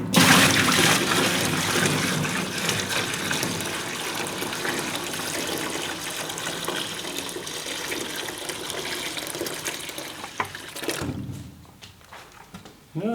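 Water pours steadily into a parts washer tank during a metal lathe restoration, a loud continuous gushing fill that runs unbroken for about eleven seconds before cutting off abruptly, leaving quieter trickling.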